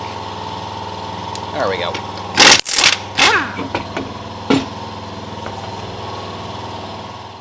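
A pneumatic impact wrench removes lug nuts from the rear wheels of a 1946 Ford coupe, firing a few short, loud rattling bursts over a steady mechanical hum while someone speaks briefly.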